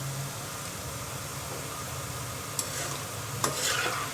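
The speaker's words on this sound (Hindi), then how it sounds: "इसी तरह इसमें तैयारी के साथ ही हमें चम्मच के साथ हिला देना और आंच तेज़ कर देनी है।" Spoon stirring besan boondi frying in hot oil over high heat, a steady close sizzle with a couple of sharp scraping clinks near the end, no talk.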